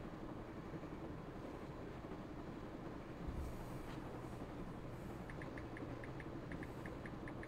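A train rolls along in the Broken Sword video game, a low steady rumble with a clunk partway through, then a rhythmic ticking series of clacks, faint with no talk.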